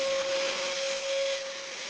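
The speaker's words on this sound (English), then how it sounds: "First, vacuum out the debris inside the shell." Vacuum cleaner sucking debris out of the rusty interior shell of an abandoned Audi A6, a steady loud broadband whoosh with a constant whining tone, close and continuous without talk.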